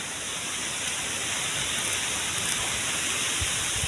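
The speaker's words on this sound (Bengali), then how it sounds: "বৃষ্টি কিন্তু এসে গেছে অলরেডি।" Rain falls outdoors near trees and a mango orchard as a dense, steady hiss that stays loud and unbroken, with no voices over it.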